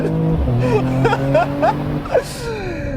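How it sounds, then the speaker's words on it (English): 2021 Mercedes-AMG E53 Coupe launching hard from a brake-torque start in sport mode, engine note rising in repeated climbing sweeps with turbo spooling, heard from inside the cabin with gasps and brief vocal reactions over it. "Let's brake torque it, get that turbo spooling."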